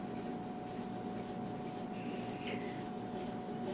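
A Jinhao fountain pen nib scratches steady lines across paper, a soft continuous rasp heard close, alone with no talk.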